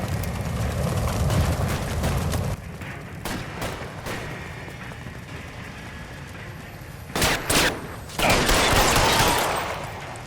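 A gunfight in L.A. Noire, with heavy mixed gunfire early on, then sparse single shots and a couple of loud sharp bursts near the end, set against a rumbling background.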